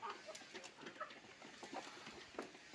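A flock of native chickens, including grey and black-and-white birds, clucks on a home terrace, with soft repeated calls from several hens overlapping at a gentle, close level.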